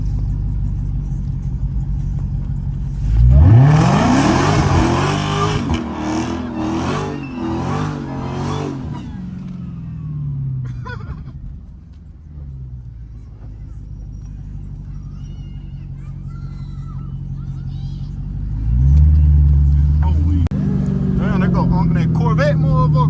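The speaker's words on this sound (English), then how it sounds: "we finna do a little burnout for these boys" A Dodge Hellcat revs hard for a tire burnout, its engine climbing to a loud, wavering roar for several seconds before dropping back to a rumbling idle and surging again, with people talking over it.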